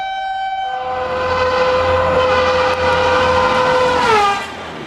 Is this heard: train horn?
yes